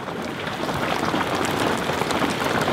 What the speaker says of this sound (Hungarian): megeredt az eső, és azóta folyamatosan szüntelenül esik